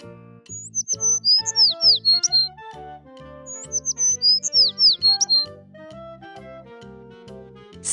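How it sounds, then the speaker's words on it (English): Sparrow chirping in short high-pitched bursts, two quick clusters of chirps over a bouncy musical backing that carries on steadily underneath. "Sparrow."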